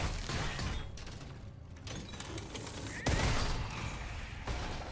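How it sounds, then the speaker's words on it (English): A loud, sustained roar of game explosion in Steelrising at the Bastille, with crackling debris and a fresh heavy blast hitting midway, dense and continuous throughout with no clear talk over it. "That's a big explosion."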